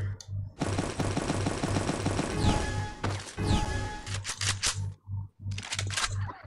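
Rapid automatic gunfire rattles through an online shooter match, sustained bursts with brief pauses near the end, loud and close, with sharp impacts layered in.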